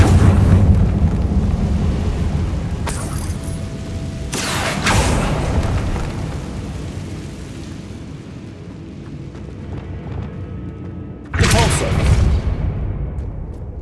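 Fiery Confringo blast spells exploding in Hogwarts Legacy, sounding as several loud booming bursts at about 3, 4.5 and 11.5 seconds over a constant rumbling game backdrop.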